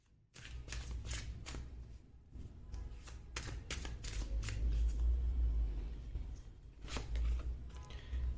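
Tarot cards shuffled and handled at close range, a run of quick riffling snaps and soft slides with a low background rumble and no talk.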